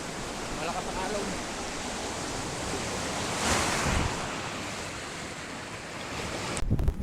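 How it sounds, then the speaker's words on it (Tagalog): Strong sea waves rolling onto the shore during a fishing trip, a continuous broad roar with a surge in the middle, mixed with wind buffeting the microphone. "Malakas ang alon."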